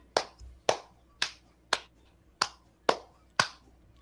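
Seven slow, evenly spaced hand claps ring out sharply one after another in a quiet room, each a crisp isolated smack with a short decay and no voices.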